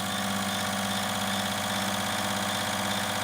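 Fuel injector flow-testing machine running at high pressure, a steady loud mechanical drone with an even buzzing hum that holds unchanged throughout, no voices.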